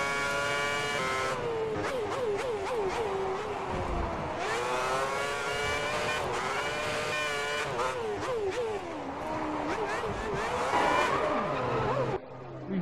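A Formula 1 race car in a video game at Valencia 2010 spinning out, with a loud, continuous engine whine that rises and falls as the revs change, sustained tire squeal through the spin, and a sharp cut near the end.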